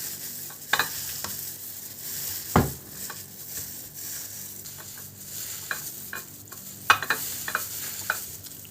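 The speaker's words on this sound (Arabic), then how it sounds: "نبدا ندعك البصل كده مع بعض." Sliced onions being rubbed and mixed by hand with a seven-spice blend for a baked zucchini tray: soft rustling and squelching with scattered sharper taps and handling clicks, close and fairly quiet, no talk.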